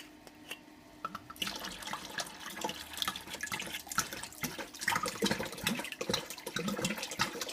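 Cox's apple juice poured into a vessel for homemade apple and grape wine, a splashing, gurgling liquid stream that starts after a second and keeps running unevenly to the end, close by.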